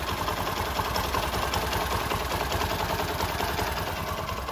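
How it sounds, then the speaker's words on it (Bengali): Idling 100cc used motorcycle engine, a Discover or Keeway, ticking over at a steady even putter, close and continuous without any voices. "তো বন্ধুরা এখন দেখা পাচ্ছে গাড়িটির ইঞ্জিন সাউন্ড দেখুন।"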